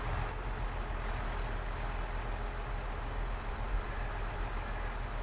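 A tractor reverses with a trailer in Farming Simulator, its steady diesel engine droning low and continuous at close range, with a faint hiss partway through and no talking.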